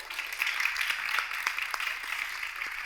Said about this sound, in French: 32 pouces en plus, ça s'applaudit très fort.